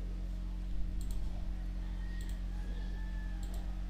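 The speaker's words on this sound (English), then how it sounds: "So just double click it to extract this zip file." Soft mouse clicks on a desktop computer, arriving in quick pairs three times at regular intervals, faint and close over a steady electrical hum.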